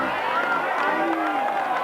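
A crowd cheering and shouting at an outdoor motorcycle trial in Foppolo, Italy, a steady roar of voices carrying under a commentator's talk.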